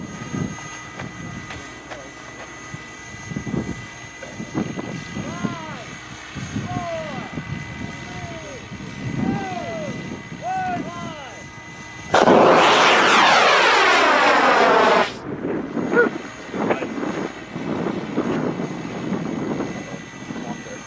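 A loud, steady roar of a small rocket motor bursts in for about three seconds and cuts off, amid outdoor chatter and a buzzing motor nearby.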